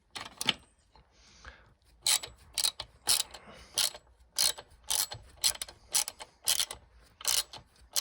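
A ratchet wrench clicks in short repeated bursts while tightening a chain adjuster bolt on a Honda Grom motorcycle. The clicking is close and sharp, with pauses between strokes.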